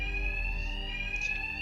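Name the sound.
bank alarms ringing in Batman: Arkham Knight video game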